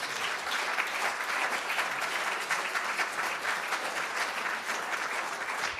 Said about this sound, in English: everyone deserves some self-congratulatory applause